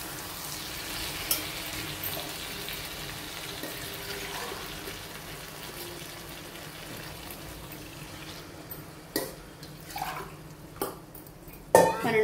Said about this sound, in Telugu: ½ గ్లాస్ వాటర్ పోస్తున్నానండి,